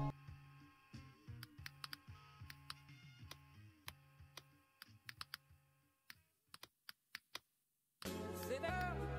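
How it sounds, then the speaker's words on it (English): Someone types a message on a computer keyboard, with crisp, close key clicks in uneven bursts and a few louder isolated strokes, followed by a short dense burst of clatter at the end. "So now let me just type the message."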